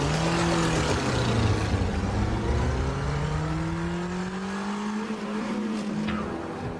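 A motorcycle rides off, its engine loud and close, rising and falling in pitch as it accelerates away over several seconds, with no talking.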